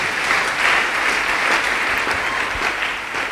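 A church congregation breaks into loud, sustained applause and cheering, a dense, continuous wash of clapping filling the room for several seconds.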